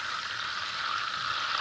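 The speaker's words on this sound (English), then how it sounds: "So you're essentially frying the butter." Butter fries in a pan over high heat, a steady, close hiss of fine crackling bubbles that holds evenly without pause.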